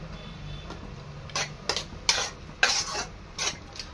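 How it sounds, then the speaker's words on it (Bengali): Rice stirred in a cooking pot while making a special bait for katla fish: several irregular scraping strokes of a spoon against the pot, fairly close and moderately loud, with a quiet background and no talking. "এরপরে নাড়তে থাকতে হবে, যেমন পোলাও নাড়ো তেমন নাড়বে, কিন্তু ধরে না যায় যাতে তলায়"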